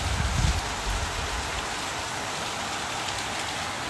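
Steady rain falls outside a window in Shillong, a dense, even hiss of drops on surfaces that stays constant throughout, with a brief low rumble near the start and no voices.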